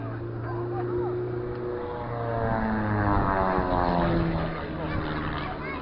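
An aerobatic propeller plane at the Blackpool Air Show drones overhead, its pitch sliding and swelling as it passes, with people talking nearby.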